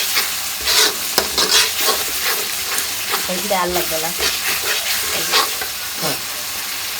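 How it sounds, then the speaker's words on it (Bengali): Spices sizzle loudly in a pan while being stirred, with scraping and clinks, and a voice briefly speaks partway through. "এখন সুন্দর করে মশলাটা ভাজা ভাজা করে করে"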